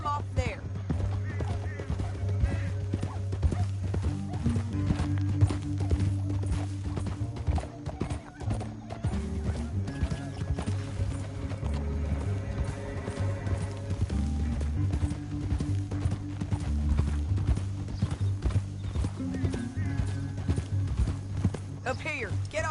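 Horse hooves clip-clop steadily through the Red Dead Redemption 2 video game, with occasional whinnies over a constant bed of game music and ambience while voices talk throughout.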